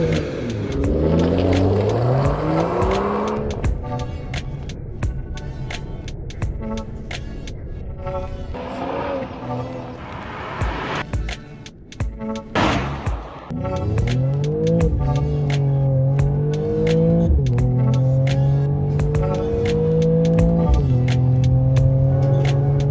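A Mercedes-AMG E 53 4Matic+ drives and accelerates on the road, its engine note rising and falling through several loud, close revving pulls with gear changes.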